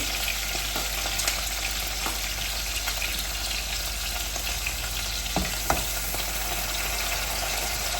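Mustard seeds, cumin, onion and green chilli fry in hot oil for a tempering, giving a steady close sizzle throughout with a few sharp pops and crackles near the end and no talking.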